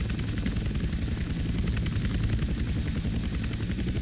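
Helicopter flying in the video game GTA San Andreas, a stolen army helicopter, with a steady loud rotor and engine drone that holds evenly throughout with no talk.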